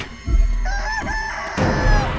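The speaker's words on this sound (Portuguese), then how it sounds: "Eu nunca pensei que eu ia jogar um jogo, cara, que a galinha me pega" A cartoonish chicken in the video game Chicken Feet crows and clucks loudly in short bursts, with a louder burst near the end and no talking.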